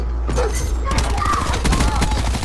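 Rapid gunfire rattles in a Call of Duty Black Ops 4 multiplayer match, a continuous burst of shots over game noise, fairly loud and close.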